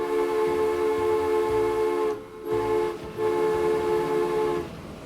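A train pulls out in the Transport Fever 2 game on a Trans-Siberian railway, with a steady horn-like tone and rumbling rail noise that briefly drop away twice, and no talking.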